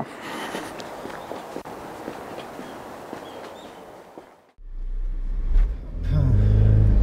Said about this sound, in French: Mégane RS, test drive.